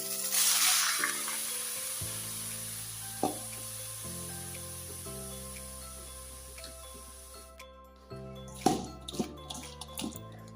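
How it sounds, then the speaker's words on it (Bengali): Small fish rinsed by hand in water with salt and lemon, with a loud sloshing splash at the start and another brief burst of splashing near the end, over a steady background. "লবণ দিয়ে আর লেবু দিয়ে ধুইতেছি ভালো করে ধুয়ে নিই"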